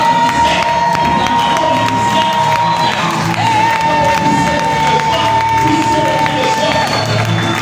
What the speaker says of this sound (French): je veux que tu pousses les cris de joie pour la maman